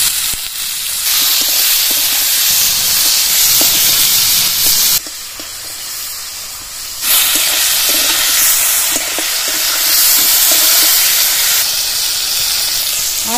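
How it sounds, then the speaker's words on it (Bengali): Potato and cauliflower pieces fry loudly in hot oil over a tempering of chili and bay leaf, cooked for a Bengali rohu fish curry; a steady close sizzle with scattered stirring clicks dips quieter for a couple of seconds midway. "আলু আর ফুলকপি ভালোভাবে ভেজে নিয়েছি"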